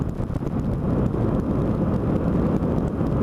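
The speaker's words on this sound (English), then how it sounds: "Lot of wind." Heavy wind buffeting a rider on a light Yamaha FZ-07 motorcycle at about 60 mph, a loud continuous low roar of rushing air over the helmet microphone, with no talking.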